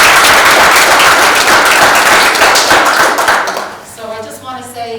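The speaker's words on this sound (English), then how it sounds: "So if we can really just give a round of applause to the" Loud, dense round of applause from a graduation ceremony audience at a youth court event, sustained clapping that fades out after about four seconds as a voice begins speaking.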